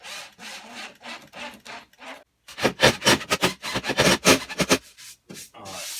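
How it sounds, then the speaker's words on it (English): Longer screws are driven into the wooden board of a digital piano stand, producing a run of rhythmic, close rasping and scraping turns, with a short pause before a louder, quicker series. "So now all I'm going to do is screw these in where those other feet were."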